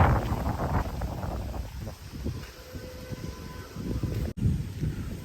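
Strong wind storm sweeping over paddy fields: a loud, gusty roar buffets the microphone in uneven surges, with a brief dropout near the end.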